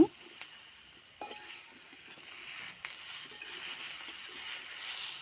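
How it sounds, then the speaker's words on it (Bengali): Curry is sautéed and stirred in a pan over a coal-briquette fire, giving a steady close sizzle broken by sharp scraping stirs and a few clinks, with no talking. "এবার ভালো করে কষিয়ে নেব।"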